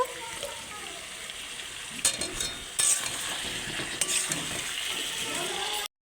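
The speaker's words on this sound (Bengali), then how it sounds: "এবার কেটে রাখা আলুটা দিয়ে আবার একটু ভালো করে কষে নেব" Chopped potatoes sautéed with chicken in a pan, giving a continuous frying sizzle with stirring, scraping and several metallic clinks of a utensil against the pan, until it cuts off abruptly.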